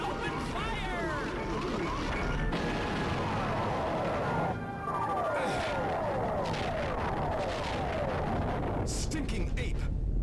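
Spaceship squadron opening fire in Star Fox Assault, with continuous laser-like zaps, descending sweeping tones and blasts layered over dense game music and effects, loud throughout with a brief dip midway.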